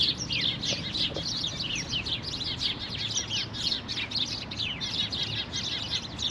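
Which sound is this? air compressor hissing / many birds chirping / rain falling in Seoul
many birds chirping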